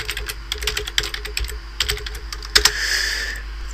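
Fingers typing on a computer keyboard while setting up Windows XP, quick bursts of crisp, close key clicks with short pauses.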